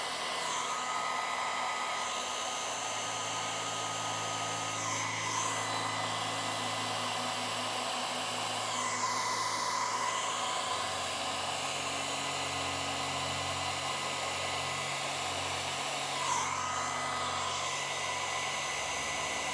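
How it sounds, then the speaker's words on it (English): A blow dryer runs steadily to heat alcohol ink on Yupo paper, a continuous close whooshing hum that shifts a little in pitch as it is moved around, with no talk over it. "Where is my blow dryer? We're going to use the heat as well"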